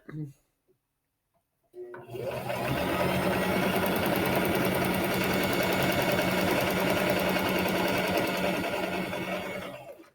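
A sewing machine back stitches pieced quilt triangles, starting after a short quiet pause and then running in a loud, steady, continuous whir close up for several seconds.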